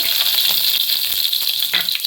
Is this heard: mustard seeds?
yes